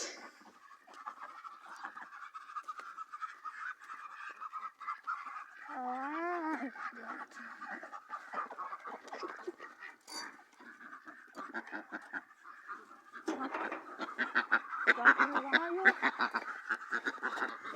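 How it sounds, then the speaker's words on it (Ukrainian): Ducks quack repeatedly in nasal, rhythmic bursts, close by, with busier overlapping quacking toward the end and some voices mixed in. "Бо качки, коли їх випускають"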